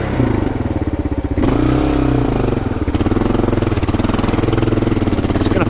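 Kawasaki KLR adventure motorcycle engine pulling hard up a climb, a loud, steady close-up engine drone with shifting revs and no voices.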